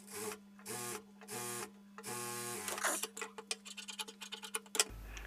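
A sewing machine stitching piping onto fabric, running in several short bursts separated by pauses, then a stretch of irregular clicks and ticks from the mechanism, close by with a steady electrical hum.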